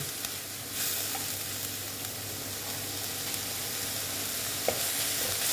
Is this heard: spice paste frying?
yes